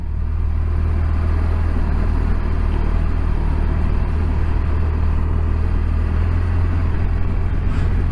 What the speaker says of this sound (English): Keep it in low gear.